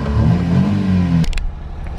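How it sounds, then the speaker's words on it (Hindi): A 2018 Honda Vamos car engine runs close and loud with a steady low rumbling idle, then cuts off abruptly partway through, leaving a few faint clicks and near silence. "तो आवाज़ में आपको गाड़ी की सुना दूँ,"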